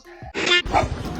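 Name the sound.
dog barking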